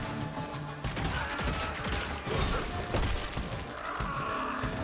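Dense bursts of gunfire and crashing impacts in the Western action game Evil West, rapid and loud, packed into a chaotic barrage with occasional voices mixed in.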